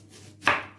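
A single knife chop through an onion on a cutting board, one sharp close thud with a brief crisp tail, alone and without voices.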